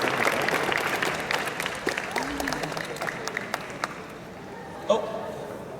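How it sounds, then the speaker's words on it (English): An audience at a convention opening ceremony claps in steady applause that thins and fades over several seconds, with a louder clap near the end and voices mixed in. "Everyone give her a round of applause."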